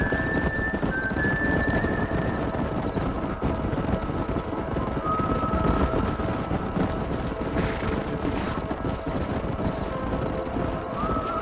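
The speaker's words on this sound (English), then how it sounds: "don't let those horses out of your sight" Horses in the Red Dead Redemption game galloping through a canyon, dense clip-clop hoofbeats rolling continuously with occasional neighs and whinnies, loud and close with no talk.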